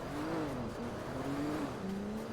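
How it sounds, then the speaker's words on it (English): Car engines in GTA V, heard behind the player during a windy Manhunt game: a steady droning engine hum with pitch wavering up and down, continuous and fairly close over the whole stretch. "Also, I hear engines behind me."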